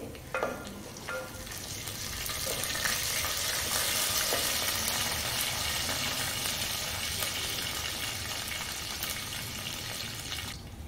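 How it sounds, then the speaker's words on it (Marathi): Garlic sizzles and crackles steadily as it fries in oil in a pan for a tempering, with occasional stirring clicks and no talking. "लसणाचा आता कच्चेपणा जाईपर्यंत आपल्याला इथं लसूण भाजून घ्यायचंय"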